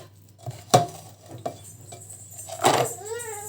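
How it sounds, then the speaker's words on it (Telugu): Batter for Mysore bonda being mixed in a bowl at home, with a few sharp clinks of a spoon against the dish and soft sloppy stirring in between, close and fairly quiet. "ఇంక ఇక్కడైతే రేపటికి పిండి అయితే కలుపుతున్నాను, మైసూర్ బొండ వేద్దామని"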